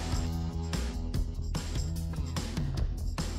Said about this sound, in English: We'll play that same section and you could hear it without the vocals.